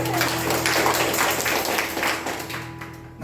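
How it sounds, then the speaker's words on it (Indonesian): A church congregation at a Sunday worship service claps together in a loud, rhythmic burst, the applause fading toward the end while a sustained low hum from the sound system runs underneath. "Tepuk tangan bagi Tuhan."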